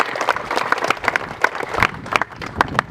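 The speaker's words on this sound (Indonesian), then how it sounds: "tepuk tangan untuk kamu punya ketua OSIS." An audience at a junior high school visit by the acting regent of Lanny Jaya applauds the student council head, uneven crowd clapping with distinct sharp claps standing out, fairly close and moderately loud.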